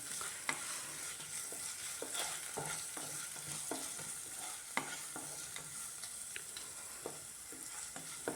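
Onions and curry leaves frying in a hot pan, a steady close sizzle broken by regular scraping strokes of a spatula, with no talking.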